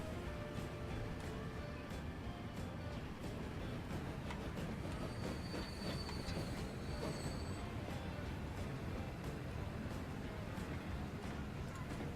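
A video game train in Transport Fever rumbles along continuously with wheel squeal and rhythmic clacking, loud and steady from start to finish.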